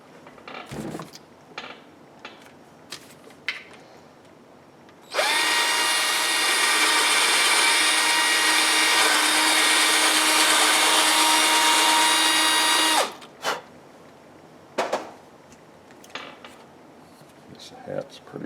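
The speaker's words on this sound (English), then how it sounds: "Let's just see, I got my drill here." A power drill runs steadily for about eight seconds, a loud continuous whine with bright overtones, set between quieter stretches of small handling knocks and clatter.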